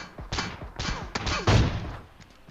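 Sniper and weapon gunfire in PUBG Mobile gameplay: several sharp shots and thuds hit in quick bursts, with one loud blast near the middle and the rest fading into a quieter tail, no talking.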